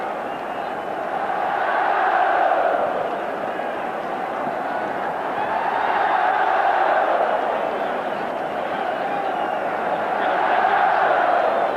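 A large football crowd at a 1988 Scottish Cup final between Celtic and Dundee United cheers the Celtic players, a steady, distant roar that swells and eases in waves, with a commentator speaking over it.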